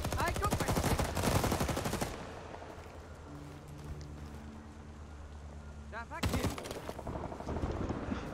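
Several loud M1D Garand marksman rifle shots from the game Rising Storm 2, sharp bursts at the start and again near the end with a quieter engine-like hum between them.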